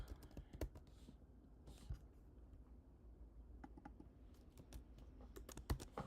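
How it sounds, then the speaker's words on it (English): Someone types on a computer keyboard while entering directory names, a quiet, irregular run of key taps with brief pauses, close and alone. "no, wait, I'm not typing the right letters."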